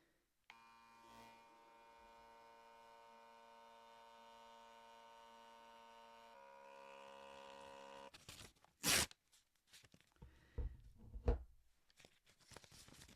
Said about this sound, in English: Let me demonstrate how quickly they print by taking a selfie.